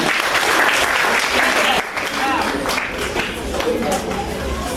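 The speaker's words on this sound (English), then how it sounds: "Can you clap hands for the lady?" Sustained applause from an audience at a school's annual general meeting, loud and steady throughout with a slight dip midway and some crowd murmur mixed in.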